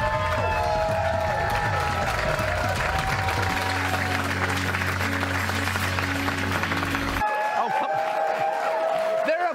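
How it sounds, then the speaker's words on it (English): Studio audience applause on a late-night comedy talk show, a dense steady wash of clapping that fills the clip, with a shift in the background midway and a brief drop near the end. "They're applauding hell."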